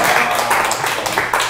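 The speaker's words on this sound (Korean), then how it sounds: "박수 쳐드려야 될 것 같아요." Applause from a church congregation, a dense steady wash of hand claps held at an even loudness, with a murmur of voices running under it.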